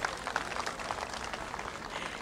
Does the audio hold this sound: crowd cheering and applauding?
yes